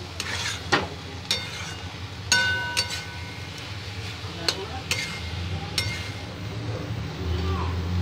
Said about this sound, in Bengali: আর একবার ভালো করে নেড়ে দেবো।